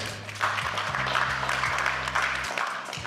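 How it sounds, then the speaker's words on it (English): An audience at a business event in Nigeria claps for a keynote speaker, producing a brief, moderate burst of applause over a low, steady musical hum. "Please help me to clap for her."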